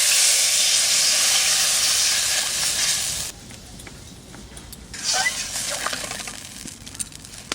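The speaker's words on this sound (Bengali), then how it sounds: "এই যে এই তেলের মধ্যে জল দিয়ে দেবো।" Water goes into hot oil in a pan while cooking a fish curry with river fish and pumpkin vine greens, sending up a loud, close hissing sizzle that fades and flares again, with a voice speaking briefly.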